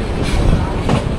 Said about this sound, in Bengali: সন্ধ্যা 7:33 আমাদের ট্রেন লাকসাম জাংশন থেকে ছেড়ে দিল